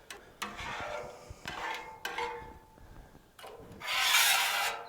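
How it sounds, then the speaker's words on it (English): A food grade metal scraper pushes leftover food across a Blackstone griddle, giving a series of rough, rasping scrapes in uneven strokes, ending in one longer, louder scrape, close and with no talking. "This is a food grade scraper. And all I'm going to do to start is just get the food off."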